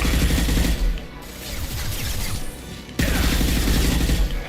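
Rockets launching and detonating in Mass Effect 2, a dense run of booming blasts and crackling fire with a brief lull in the middle before the barrage resumes loudly.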